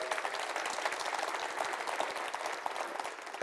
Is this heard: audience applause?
yes